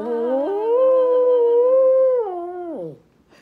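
A dog lets out one long, loud, wavering howl lasting about three seconds that slides downward into a whimper at the end, alone with no talking.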